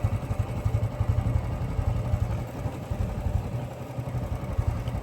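A motorcycle engine idles and putters nearby, a steady low rumble with slight clattering pulses, loud and continuous with no talking.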